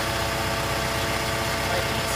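A concrete pump's engine idles close by, a steady, even rumble with a constant mechanical hum, unbroken and unchanged throughout with no talking.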